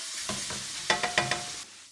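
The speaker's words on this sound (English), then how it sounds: "cook over high heat for 4 or 5 minutes, stirring often" Sausage cooking in a pan over high heat, with a steady close sizzle and several sharp scraping stir strokes of a spoon or spatula, no talking.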